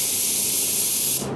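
Paint spray gun atomizing at 30 psi, a steady loud broadband hiss running continuously and then dropping off abruptly as the trigger releases near the end.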